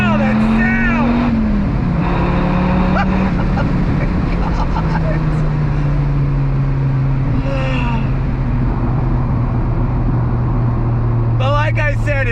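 A 2006 Dodge Viper SRT10 revs hard while driving, its loud, close engine drone climbing and dropping in pitch through gear shifts, with voices talking over the roar.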